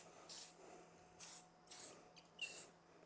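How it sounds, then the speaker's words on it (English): An aerosol can of activator sprays onto rubber stamp material in short hissing bursts, four or five quick spritzes separated by pauses, close and quiet against a faint steady hum. "I'm going to hose it down with some activator just in case."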